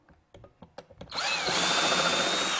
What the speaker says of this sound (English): and just drill a pilot hole.